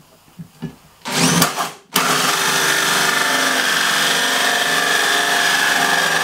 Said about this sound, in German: Dann fangen wir uns auch schon mal da an, ein großes Loch reinzubohren.